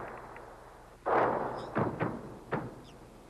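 Artillery guns fire in war, with several heavy booms spaced a second or so apart, each a sharp blast with a short decaying tail, heard at a distance with no talk over them.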